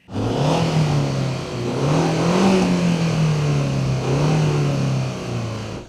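A Seat Exeo's 1.8 turbo engine revs steadily, its tone rising and falling through several pulls, heard up close with no voices.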